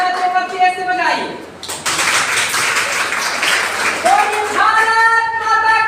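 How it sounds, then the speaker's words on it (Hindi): An audience at a public speech claps together in a broad, sustained wash of applause that swells for several seconds, framed by a voice speaking before and after it. "तो इसी बात पे ताली बजाइए"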